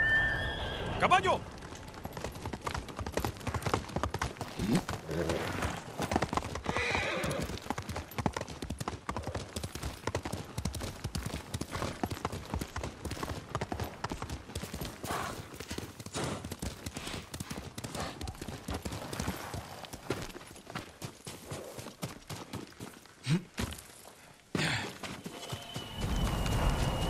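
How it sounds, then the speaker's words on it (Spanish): In the video game Ghost of Tsushima, a horse clip-clops with steady hoofbeats throughout and whinnies near the start, under continuous dialogue and other game sounds. "¡Caballo!"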